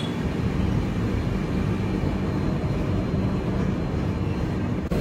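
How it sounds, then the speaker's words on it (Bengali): Kulik Express train pulling into Prantik station, a steady loud low rumble of rolling wagons and engine noise throughout, with no voices. "11:59 আমাদের ট্রেন এসে পৌঁছালো প্রান্তিকে।"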